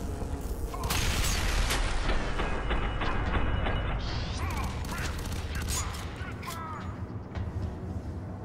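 A grenade blast in the shooter game FEAR 3, a dense loud burst of explosive noise and rumble that fills the scene and trails off into debris, with gunfire-like crackle around it.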